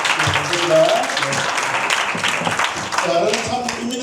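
Applause from an audience at a hospice volunteer training session, following a lecture by a pastor, forms a steady crackling wash of clapping that carries through the whole stretch, with voices talking over it.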